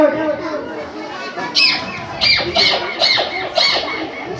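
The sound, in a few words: child imitating a parrot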